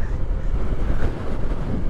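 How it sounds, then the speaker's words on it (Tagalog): Strong wind roars and buffets the microphone continuously during a motorcycle ride in Malico, Pangasinan, a loud, low rumbling rush with no voices. "Lakas na hangin."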